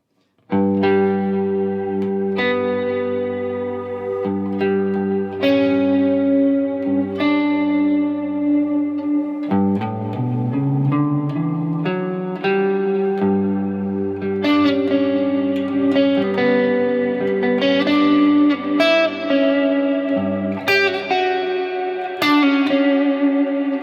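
Electric guitar plays a sequence of single notes and sustained tones over a held bass note, clear and steady with slight effects.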